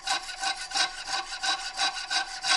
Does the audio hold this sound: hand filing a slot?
yes